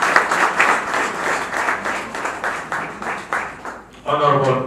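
An audience at a political alliance gathering claps in a lively, rhythmic burst of applause that swells and dips, and a voice begins speaking over it near the end.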